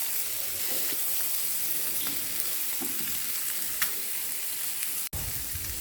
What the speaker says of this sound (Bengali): মাছের সাইডটাও ভাজা হয়ে গেছে